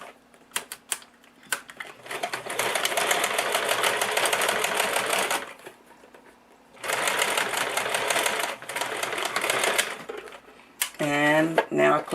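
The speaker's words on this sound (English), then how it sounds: "I'm only going to stitch across the elastic just to give it a little extra security." A home sewing machine stitches across elastic on a DIY S Pen holder, running in two steady bursts of rapid mechanical chatter separated by a pause, with a few clicks at the start and someone talking at the end.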